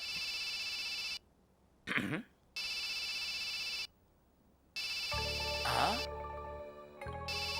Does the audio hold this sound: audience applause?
no